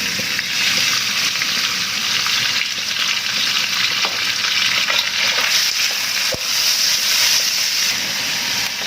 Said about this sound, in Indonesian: Selanjutnya saya akan langsung menggoreng